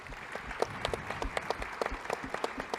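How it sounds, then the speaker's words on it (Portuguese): Scattered, distinct hand claps from a small audience at a panel talk ring out in an uneven rhythm, fairly quiet and a little distant, with no speech over them. "Mais uma salva de palmas para o Douglas"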